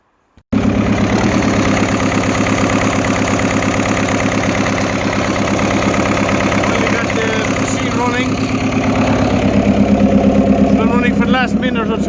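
An excavator diesel engine, recently refitted with its injection pump, starts and then runs steadily and loudly at idle with a continuous throbbing rumble close by for over eleven seconds.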